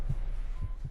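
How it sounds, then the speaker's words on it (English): A heartbeat monitor in the video game Driver San Francisco gives three low, muffled thumps about half a second apart over a steady hum. "You can hear the sounds of a heartbeat monitor and see the faint overlay of an EKG on the screen"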